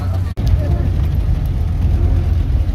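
A Ford Model A car drives along, its engine rumbling low and steady, heard from inside the car, with a brief dropout near the start and faint talk mixed in.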